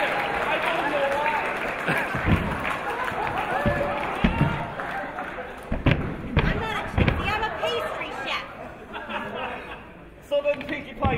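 A convention audience at an improv comedy show cheers, claps and laughs in a continuous noisy crowd roar, with talking over the din.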